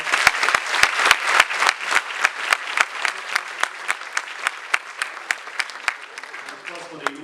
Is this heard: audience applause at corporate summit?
yes